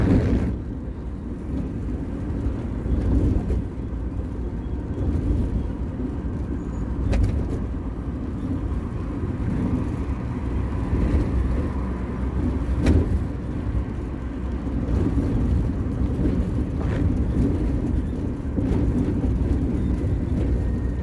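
Loud exhaust of an Iveco truck rumbles steadily through São Paulo traffic, a dense low engine roar continuing for the whole stretch with no talk over it.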